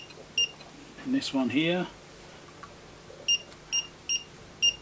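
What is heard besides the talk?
continuity tester beeping while testing diodes on a Datron calibrator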